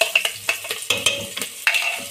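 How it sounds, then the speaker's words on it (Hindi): Chopped green chilies hit a pan of garlic already frying for an aloo shimla mirch dish, bringing a soft sizzle and a series of sharp spoon-and-pan clatters from close stirring. "अब लहसुन को भूनने के बाद हम इसके अंदर 2 चम्मच कटी हुई हरी मिर्चें यानी 4 अदद कटी हुई सब्ज़ मिर्चें डालेंगे"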